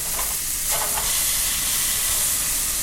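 Noodles stir-fry in a wok with a little olive oil, a loud, steady sizzle and hiss with a few brief scraping stirs near the start.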